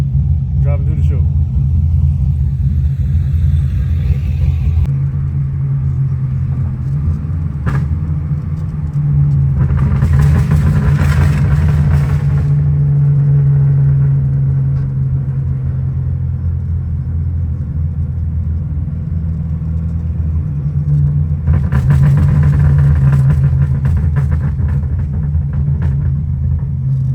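LS3 V8-swapped Subaru BRZ creeping through car show traffic, a deep steady engine rumble with a couple of brief rises in revs and occasional passing noise.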